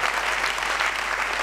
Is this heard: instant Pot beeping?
no